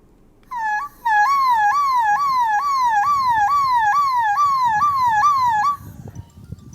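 A schoolboy from a village in Sitapur imitates a police siren with his mouth, a loud, close, rising-and-falling wail repeated steadily about a dozen times before stopping abruptly.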